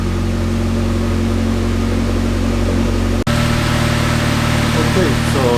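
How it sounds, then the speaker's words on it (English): A Mitsubishi Lancer turbo car idles just after start-up, its engine holding a steady, loud droning hum throughout, with a brief dropout partway through before the same even rumble resumes. "Okay, so just started up the car."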